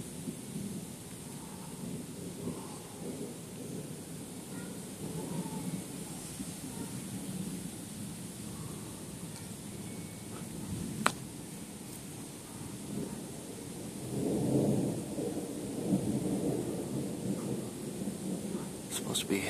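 Steady rain patters through a thunderstorm, and low rolling thunder rumbles swell late on after one sharp crack, fairly distant and moderately loud.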